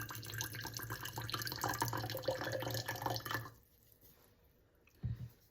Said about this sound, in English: In a jar, we are going to pour in some white wine vinegar.